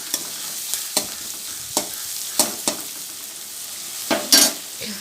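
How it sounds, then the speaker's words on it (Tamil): Onion and green chillies sautéing in a pan for arai keerai poriyal, a constant close sizzle punctuated by repeated sharp spatula scrapes and clicks. "வெங்காயம் பச்சை மிளகாய் இதெல்லாம் நல்லா வதங்கினதுக்கப்புறமா"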